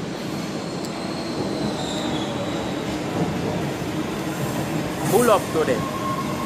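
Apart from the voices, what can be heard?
train passing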